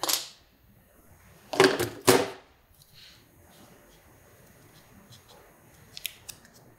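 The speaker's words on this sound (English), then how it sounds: "I'm gonna use a razor blade." A razor blade slices through adhesive foam tape for a 2018 BMW S1000RR R&G radiator guard, two sharp close cuts in quick succession, followed by faint small ticks and handling noises.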